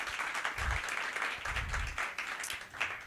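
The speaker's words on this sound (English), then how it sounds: "Can we get a round of applause for Edge as Madison comes on up?" Applause from a tech conference audience thanking a sponsor, moderately loud clapping mixed with crowd murmur and a few brief low thumps, fading in and out over a few seconds.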